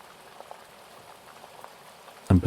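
Light rain patters softly in a faint, steady crackle of scattered drops, broken near the end by a sudden louder thump.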